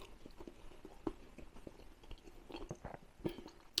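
Close, quiet chewing of an air-fried cheesy wrap with melted cheese, garlic and Italian herbs, soft irregular crunches and mouth sounds alone for a few seconds.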